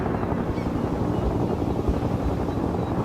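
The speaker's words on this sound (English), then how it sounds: "Alien helicopter." A steady, loud whirring rotor drone with broad rumbling noise, continuous throughout with no speech, a video game helicopter hovering nearby.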